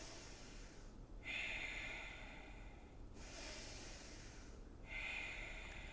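Deep breathing during a yoga flow: two long, steady inhale-exhale cycles close to the mic, each swelling into a soft airy rush, over a constant low room hum.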